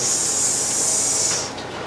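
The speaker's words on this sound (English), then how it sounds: "as it's getting done, you hear the sizzle drop" Bacon frying in a pan, a bright continuous sizzle and crackle, loud and close, that thins out slightly toward the end with no talking.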